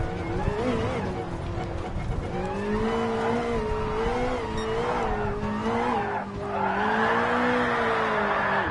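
Enzo Ferrari in the racing game GT Sport, its engine howling and shifting pitch through corners with tire squeal and skidding, a continuous loud mechanical whine rising and falling over several seconds.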